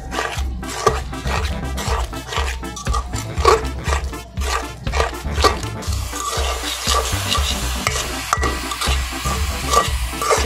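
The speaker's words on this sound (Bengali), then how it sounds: "গাজরটা সিদ্ধ হওয়ার পরেই আমি এবার চিনিটা দিয়ে এবার আমি নাড়াচাড়া করতে থাকবো চিনিগুলো গলিয়ে শুকিয়ে যাওয়া পর্যন্ত।" Grated carrot and sugar stirred in a pan over a low flame for carrot laddu; a spoon scrapes in steady, close strokes over a continuous soft sizzle, with no talking.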